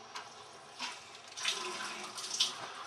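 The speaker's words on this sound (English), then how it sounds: "Water's coming out of the faucet now" Water streams from a reverse osmosis faucet under a kitchen sink setup, a steady broadband hiss with slight surges in flow, fairly quiet and close, no voices.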